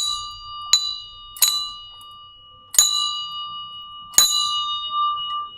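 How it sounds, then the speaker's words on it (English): A hand bell rings four separate times with clear, bright strikes, each tone ringing out and slowly decaying. It sounds close and loud, with no voices. "where's my bell? There it is."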